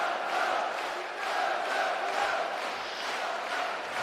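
A boxing crowd at a World Series of Boxing semifinal cheers and shouts encouragement in a steady, swelling roar that rises and falls in waves and carries on alone without clear talk.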